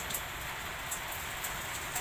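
Steady rain falls outdoors while stingray is grilled and smoked, a continuous even hiss with faint scattered drops throughout.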